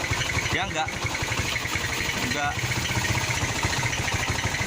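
A Viar motorcycle engine runs close by and is revved a couple of times over its steady idle, while someone talks over it.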